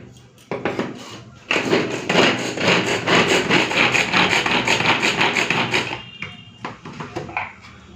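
Onion is chopped in a three-blade manual pull-cord chopper, making a rapid burst of rattling, whirring plastic clatter that runs for several seconds. Scattered clicks and taps come before and after it, all close to the listener.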